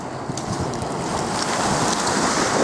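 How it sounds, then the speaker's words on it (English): Sea waves wash steadily beside Southport pier, a continuous loud roar of surf with wind buffeting throughout and no break in the rushing water. "these waves are not coming all the way in"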